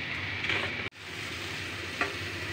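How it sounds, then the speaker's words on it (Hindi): Gatte sizzling while stir-fried over low heat in a pan for Rajasthani gatte ki sabji, a steady close hiss with a brief break and a small clink near the end, no voices. "फ्राई कर रहे हैं हम"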